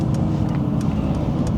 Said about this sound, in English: Sorry, I got to turn into this traffic here.